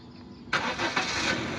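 A car engine idling steadily with the air conditioning switched off, a broadband running hum starting abruptly and continuing at moderate loudness, close by.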